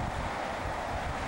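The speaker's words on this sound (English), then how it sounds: "And the wind's up a little bit." Steady wind blowing over Lake Michigan along the Chicago shore on a gusty day, a continuous broadband rush with low rumble that holds level throughout the short stretch, with no voices.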